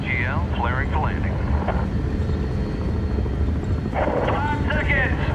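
A helicopter rotor thumps steadily as the aircraft flares to land at a landing zone in Medal of Honor (2010), with a constant loud drone and radio voices talking over it.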